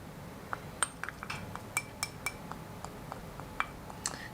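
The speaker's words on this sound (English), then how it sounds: "And then just mix it together." Makeup powder being mixed with isopropyl alcohol: a run of quiet, light clicks and taps, spaced irregularly, like a small tool working the powder in a dish up close. No one talks.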